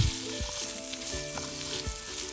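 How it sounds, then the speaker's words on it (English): Onions frying in oil and butter in a Dutch oven, a steady close sizzle with occasional soft thumps of stirring, no voices. "Now we add our onions and let them cook until they're soft and golden"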